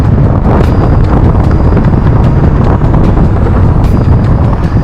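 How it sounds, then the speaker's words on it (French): Strong wind buffeting the microphone during a road trip in Spain, a loud, continuous roaring rumble that fills the whole clip without let-up, with no voices heard. "Le vent est tellement fort"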